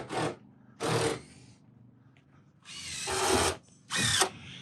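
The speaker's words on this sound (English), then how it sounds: "It's a DeWalt battery, great big 60-volt drill with a 3-inch hole saw on" A DeWalt 60-volt cordless drill with a 3-inch hole saw runs in four short bursts, its motor whirring loudly and grinding as it cuts log cabin window openings, with quiet pauses between.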